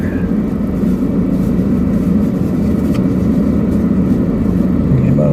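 Inside a vehicle creeping through traffic, a constant heavy low engine and road rumble dominates, loud and close. A brief higher tone rises near the end, with no talking.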